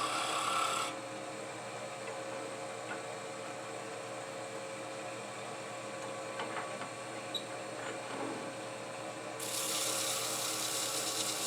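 Steady rasping friction of sandpaper against wood spinning on a lathe, sanded with the grain while turning a scoop, with a constant motor hum beneath and a slightly louder whir at the start and end.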